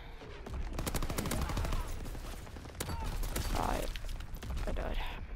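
Artillery and gunfire pound in a video game battle, sustained volleys of sharp blasts and rapid bursts layered thickly throughout, loud and close.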